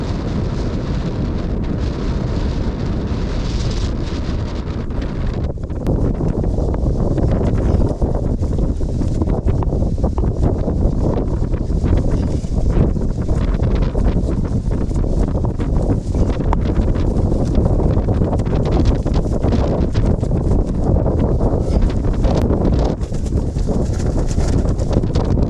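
Strong monsoon wind buffets the microphone on a mountain trek up Kalavantin Durg in the Sahyadri hills, a loud continuous roar with gusty rumble lasting throughout, with no speech over it.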